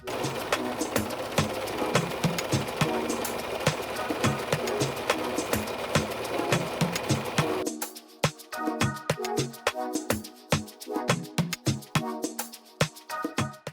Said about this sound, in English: let's go ahead and start serging this here so that when I wash it, it won't unravel